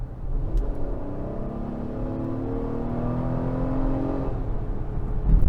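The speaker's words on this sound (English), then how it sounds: "we're just going to press the throttle down" A 2022 Acura MDX engine revs up steadily under load uphill, its pitch climbing smoothly as it accelerates, then easing off before surging again at the end.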